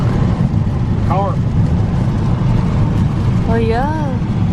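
A car drives along a flooded highway in heavy Texas rain, a steady loud wash of engine and water spray, with brief voices talking over it.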